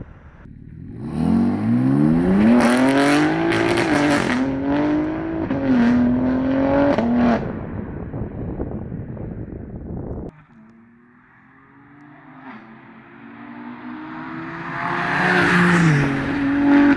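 A BMW M2 G87 with an H-pipe or X-pipe OPF-delete exhaust revs hard, rising and falling through several loud sweeps before dropping to a quieter idle-like drone and climbing again.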